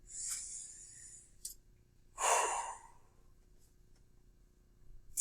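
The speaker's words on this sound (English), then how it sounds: "Take a deep breath." A deep breath drawn in and let out, the long inhale and a sighing exhale heard close and fairly quiet, followed by faint clicks in an otherwise quiet room.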